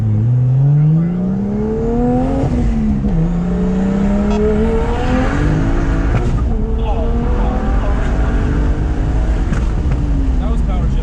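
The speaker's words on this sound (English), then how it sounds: "That was power shifting." A single-turbo BMW 335i on new tires accelerates hard with power shifts, its engine note rising in repeated climbs that dip briefly at each shift, loud and close, with people talking over it.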